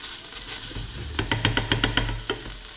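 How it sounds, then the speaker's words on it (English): Tuna chunks frying in a pan for a pasta cream sauce, a steady close sizzle with a quick run of sharp rhythmic taps or scrapes in the middle. "You don't need to fry it, but it gives a nice aroma."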